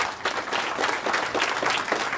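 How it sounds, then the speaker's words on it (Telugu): Audience at a school science celebration clapping with both hands, a dense steady applause that carries evenly from start to end without pause. "అందరూ చప్పట్ల రూపంలో 2 చేతులతో కొట్టాలి సార్"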